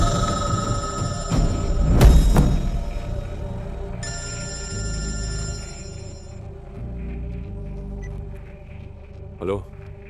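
A telephone rings in a Hindi-dubbed action film scene, its repeated bell tones standing out clearly over a steady low background with speech around it.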